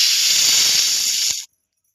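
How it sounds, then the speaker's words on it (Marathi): Water poured into a pan of frying shrimp masala erupts in a loud, steady steam hiss and sizzle that runs for over a second before cutting off abruptly into silence. "त्यानंतर त्याच्यामध्ये पाणी घालून घ्यायचं."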